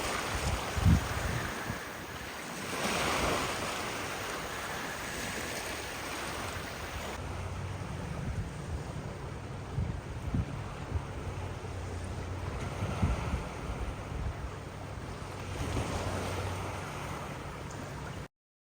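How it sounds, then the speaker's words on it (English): Waves rolling in at Bayside Beach in Pasadena, Maryland during a damaging coastal flood, a steady wash of surf with gusty wind buffeting the microphone and no speech. "Waves coming in."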